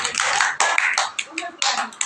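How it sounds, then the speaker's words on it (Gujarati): Children clap for Manav in a balmandir classroom, with a quick run of uneven, close handclaps that come and go, mixed with voices. "માનવ માટે તાળી પાડો"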